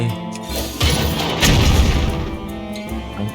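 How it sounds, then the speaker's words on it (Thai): A cannon fires in a Hearthstone match. A heavy, close boom and crash swell up and fade over a couple of seconds within the game's sound mix. "ยิงปืนใหญ่"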